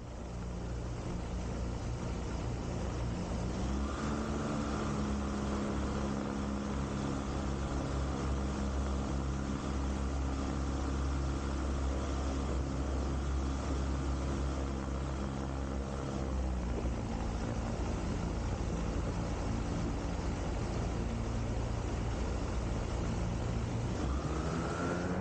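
Small propeller aircraft taxiing out on the ground at a farm airstrip, a steady loud engine drone with propeller hum that shifts in pitch partway through, heard from on board with no talk.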